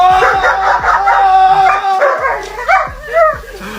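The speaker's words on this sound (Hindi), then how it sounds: "और तभी उसका कुत्ता अपने ओनर को बचाने के लिए जोर जोर से भौंकता है" A dog barks loudly and repeatedly in quick, uneven bursts, close by, with yips and whimpering tones mixed in and no talk.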